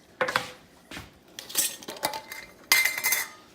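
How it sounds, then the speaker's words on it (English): A spoon scrapes and clinks around a pressure cooker pot as split pea soup is stirred, a series of irregular metallic strokes, fairly close and moderately loud, with no voices. "I like to just kind of stir this up, make sure it's all incorporated"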